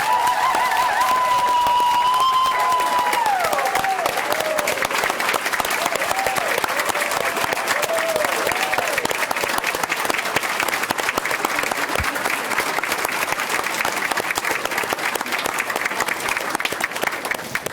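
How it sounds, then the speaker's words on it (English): Hearty sustained applause from the audience at a school board meeting, dense and continuous with some cheering at the start, lasting the whole stretch. "Since we have already given a hearty round of applause"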